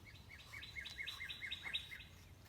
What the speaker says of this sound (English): listening to the birds chirp